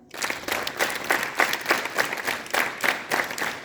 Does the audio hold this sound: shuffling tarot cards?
no